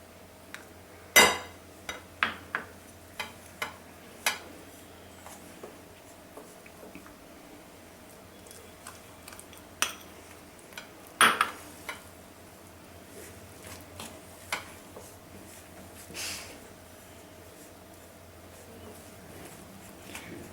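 Whole wheat bun dough being mixed in a bowl, with sporadic clinks and soft scrapes of a utensil against the bowl, faint and irregular with quiet gaps between.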